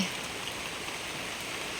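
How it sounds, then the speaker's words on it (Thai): Steady rain falls outdoors in a garden of colourful caladium plants, a constant soft hiss of drops on surfaces, even and unbroken at low volume with no voices. "ฝนมันตกแล้วก็"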